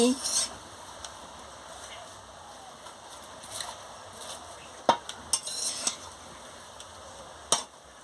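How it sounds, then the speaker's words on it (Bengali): Shorshe chochchori being stirred with salt in a pan, quiet low sizzle broken by a few sharp spoon-against-pan clinks and scrapes, close and faint. "এবার আমি নুনটা দিয়ে দিচ্ছি দিয়ে ভালো করে একটু নাড়িয়ে নিচ্ছি"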